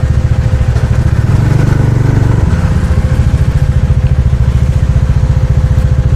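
Motorcycles ride along a road near Thirumalaikovil in Tenkasi, their engines a loud, steady, pulsing drone with a rapid low throb that carries throughout.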